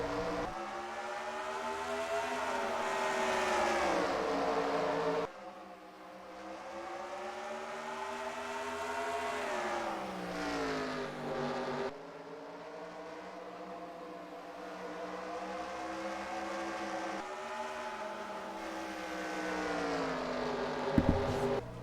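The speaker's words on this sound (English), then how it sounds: "All 40 drivers rolling around the world's fastest half mile for a quick pace lap before we get everything underway" Forty race cars roll around Bristol's half-mile oval on a pace lap in a racing video game, their engines droning loud and steady with rising and falling pitch in long sweeping passes.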